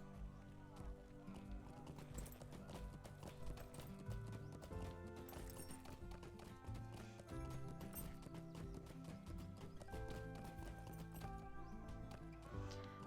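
Horse hooves clip-clopping in the fantasy game LOTRO, a steady rhythmic trot mixed with a whinny, under game music and a voice talking.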